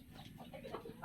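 Brooding hens cluck softly and intermittently at close range in a backyard coop, faint low murmuring calls.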